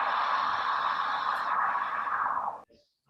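Wind sound from a movement sonification played in a human-computer interaction study: a steady, loud broadband whoosh that holds evenly for about two and a half seconds, then cuts off abruptly into near silence.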